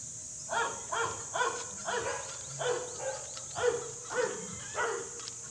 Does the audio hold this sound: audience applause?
no